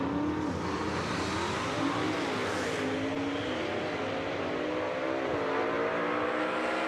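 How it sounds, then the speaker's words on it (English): A gasser drag race car launches down the strip at Jackson Dragway in a Southeast Gassers Association test and tune, a sustained engine roar climbing through gear shifts and fading slightly with distance. "So Ray Blue gets it down the racetrack after a little bit of a soft start right there"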